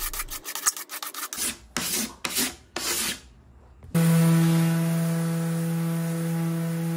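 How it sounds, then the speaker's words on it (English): Sanding a 1930s English wood dresser: a few seconds of rough rasping, rubbing strokes across the wood, then an orbital sander's steady, loud motor hum takes over close up, with no talking. "Using an orbital sander on edge pieces like this, you want to be really careful not to stay in one spot too long"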